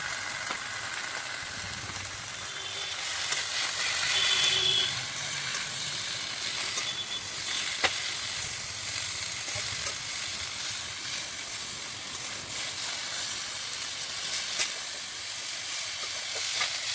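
Spice paste sautéed with potato, stems and vegetables in a pan, a soft continuous sizzle with faint occasional stirring, fairly quiet and steady throughout with no voices.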